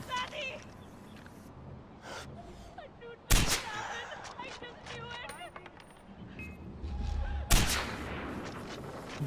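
Gunfire in the video game Far Cry 4, with two loud sharp shots roughly four seconds apart over game ambience, rustling and a voice talking.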